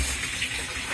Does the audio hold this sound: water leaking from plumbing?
yes